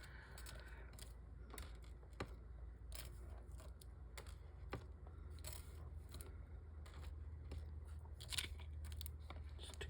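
Paper swatches crunched by hand for a card, giving close, quiet crinkles and crackles in irregular bursts over a soft background hum.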